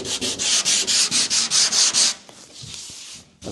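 Rhythmic back-and-forth block sanding of body filler on a 1958 Plymouth body panel, about a dozen even raspy strokes close up, then a softer, lighter rubbing with a few small knocks.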